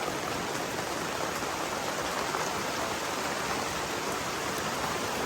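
Heavy rain pouring during a storm in a mountain valley, a steady, dense hiss of water that stays loud and unbroken throughout, with no voices.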